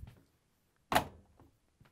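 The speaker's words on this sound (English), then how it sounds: "And now I can close the door." An LG/Kenmore front-load washer door swinging shut with a single sharp thunk up close, followed by a faint rattle and quiet pause.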